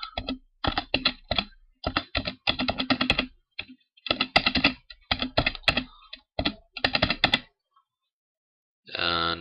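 Fast, crisp clatter of typing on a computer keyboard, bursts of rapid keystrokes with short pauses between, close and clear, ending in silence before a final brief burst.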